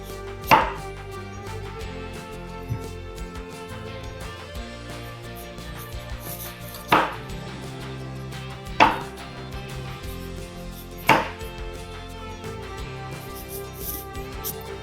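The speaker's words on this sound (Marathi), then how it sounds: "आता तिचे छोटे छोटे तुकडे करून घ्यायचे." A knife chops peeled, firm raw mango into small pieces with four sharp, spaced cutting thuds against a board over a steady quiet background hum, with no talking.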